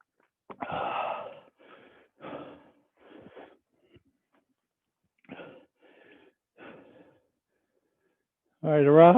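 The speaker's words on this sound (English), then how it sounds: "Hopefully you're breathing hard. I know I am" Heavy, ragged breaths after karate training come in short, separate gasps and puffs with quiet pauses between them, and a voice comes in at the end.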